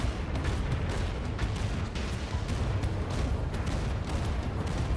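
Heavy 120mm cannon fire in the video game EndWar, a continuous rumbling battle din of booming blasts and crackling impacts, dense and steady without clear pauses.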